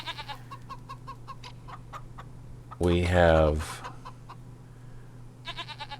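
A single loud goat bleat rings out on a homestead over a background of clucking chickens and chirping birds, with brief speech nearby.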